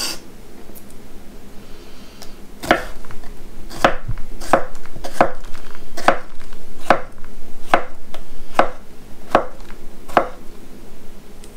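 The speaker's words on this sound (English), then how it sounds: "So I'm just dicing these up into smaller pieces." A knife dices salad vegetables on a cutting board, giving a run of about ten sharp, close chops that come in an uneven rhythm, with no talking.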